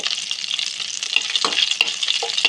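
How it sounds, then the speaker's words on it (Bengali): Black cumin and dried red chillies temper in hot oil, reused from frying lentil dumplings and prawns, with a bright, crackling sizzle that stays loud and close, plus a few light stirring scrapes. "ফোড়ন হিসেবে কালো জিরে আর শুকনো লঙ্কা দিয়ে নেব"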